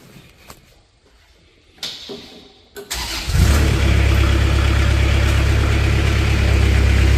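A 2014 Moffett M55 truck-mounted forklift's engine cranks briefly after a few clanks, then catches and settles into a loud, steady, close-up idle.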